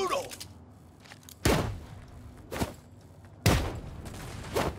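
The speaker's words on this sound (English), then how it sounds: "Is that a fucking minigun?" A minigun in the video game Saints Row fires in heavy bursts, two loud roaring volleys each trailed by a shorter burst, separated by quieter stretches of game ambience.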